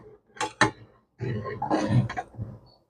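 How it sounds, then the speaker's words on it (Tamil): A spoon scrapes and clinks against a pot of boiling milk being stirred on the stove, in a few short bursts separated by brief pauses, close and fairly clear, with no talking. "நல்லா பால் அடி பிடிச்சிடாம கொஞ்சம் கலக்கி விடுங்க."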